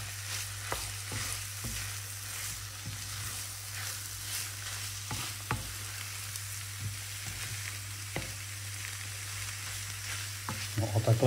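Cheese is stirred into a frying pork belly filling in a pan, a soft steady sizzle under a constant low hum, punctuated by occasional sharp clicks and scrapes of the spoon, close and unvoiced.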